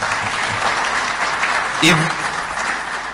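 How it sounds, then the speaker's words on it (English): An audience at a regional IGAD address breaks into applause, a steady, fairly close round of clapping that fills the room for several seconds with a brief voice rising through it. "Please, let's give her a better clap than that."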